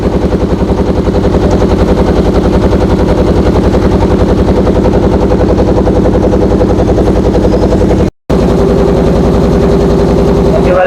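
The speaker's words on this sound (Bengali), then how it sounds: "এটা হচ্ছে জেলেদের ট্রলার" A fishermen's trawler engine thumps in a rapid, steady, very loud rhythm close by for the whole stretch, with only a brief break near the end.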